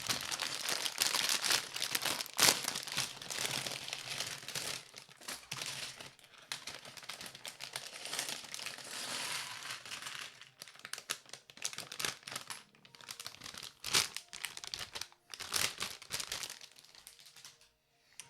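A plastic bag from a LEGO Jazz Club set, bag 5, being torn open and crinkled up close, with bursts of sharp rustling and crackling that taper into sparse, quieter handling.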